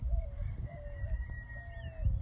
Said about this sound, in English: Roosters somewhere.